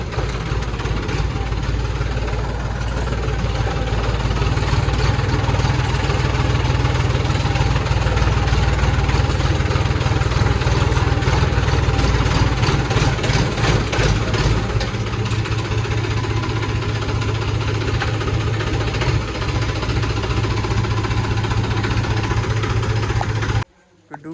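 A tractor engine idles steadily and loudly throughout, a deep continuous rumble with vibration, cutting off abruptly at the end.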